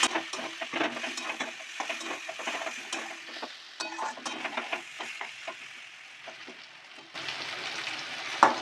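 Arum (ol) stems and prawns frying in a pan while being stirred, with steady sizzling broken by repeated scraping strokes of a spatula, close and fairly loud with no talking.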